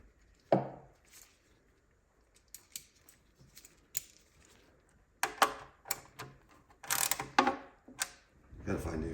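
While a Hiwatt DR103 amplifier is being assembled, a ratchet wrench clicks in short, scattered bursts at close range, separated by quiet pauses and small handling noises, with a few louder ratcheting runs toward the end.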